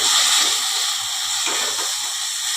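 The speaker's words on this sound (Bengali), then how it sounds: "এটা একটু হালকা ভাজা ভাজা করে নেব।" Potato pieces fry in hot oil with nigella seeds and a slit green chilli, giving a loud, close, continuous sizzle and hiss with no talk.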